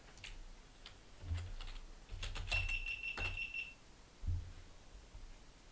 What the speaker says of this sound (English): it was beeping at me, the Starlink was